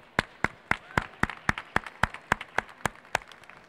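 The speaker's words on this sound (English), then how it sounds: "I want to pause and give a round of applause to you for that" Crisp, evenly paced clapping at a STEMfest 2013 event with Redmoon Theater, about fourteen sharp claps in a steady rhythm, fairly close and alone without talk.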